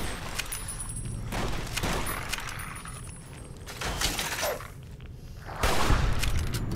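Rapid gunfire and booming grenade blasts from the Fallout: New Vegas video game, coming in several loud, dense bursts with short lulls between them.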